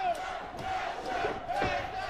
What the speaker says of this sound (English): You hear the crowd just popping for Hector Sainz.